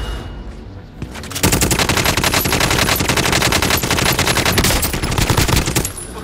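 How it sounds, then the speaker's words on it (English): Sustained automatic gunfire from a Call of Duty Warzone match, a rapid loud burst of shots running several seconds after a brief quieter lead-in, with no talk over it. "I just unloaded an entire clip into that guy's chest and he didn't die"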